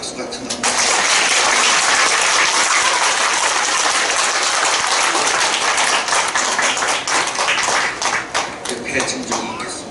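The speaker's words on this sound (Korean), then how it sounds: "이때 박수 같은 거." Loud, dense applause fills a church hall during a worship service celebrating a building dedication and ordination, sustained throughout and thinning slightly toward the end.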